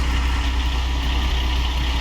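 Low, steady rumble of an excavator engine idling in Gold Rush The Game, a constant close drone with no variation.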